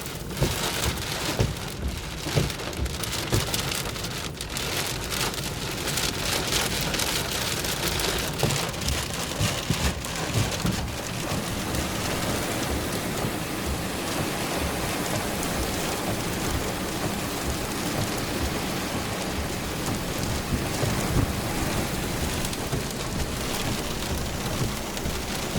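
Heavy rain pounds steadily on a car during a thunderstorm with strong gusty winds, a dense continuous roar with low thunder rumbles mixed in throughout, no voices.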